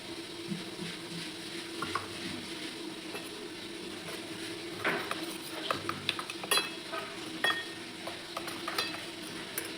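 Spoon stirring a thin slurry of maida and water in a bowl, with soft scraping and occasional light clinks of the spoon against the bowl, steady and close, no talk.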